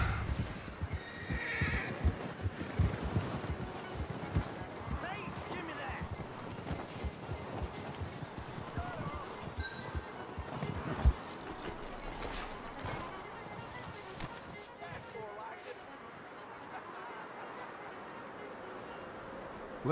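In a Red Dead Redemption 2 game scene, a horse whinnies loudly and its hooves clip-clop in a busy rhythm, then it slows and quiets near the end.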